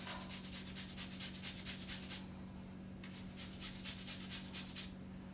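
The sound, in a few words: zesting a lemon on a grater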